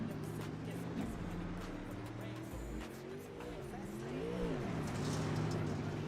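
A World of Outlaws late model dirt race car on a qualifying lap at Fairbury, its engine droning steadily at a distance and rising as it nears, with a commentator talking over it.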